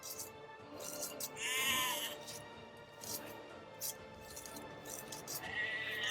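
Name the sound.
sheep bleating in video game Age of Empires 2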